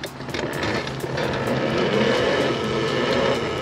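A mini electric bike climbs a hill at full throttle, giving a loud, continuous motor whine and road rumble with no breaks.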